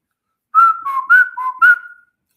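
A person whistles five short, clear notes close to the mic, in an uneven rising and falling pattern with brief gaps, and no other sound.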